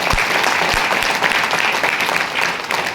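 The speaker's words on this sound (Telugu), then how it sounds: "ఇంకొకసారి బిగ్ రౌండ్ ఆఫ్ అప్లాజ్ అండి" A large audience at an education event gives a big round of applause: loud, continuous clapping from many hands filling the whole stretch without letting up.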